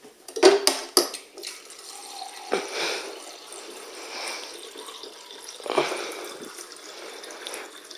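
Clinking dishes and cutlery followed by a trickle of water being poured, with small clatters in between; fairly quiet and close.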